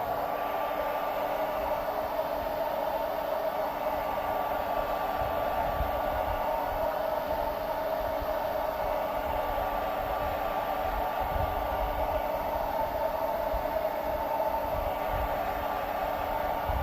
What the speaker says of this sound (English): Get your blow dryer.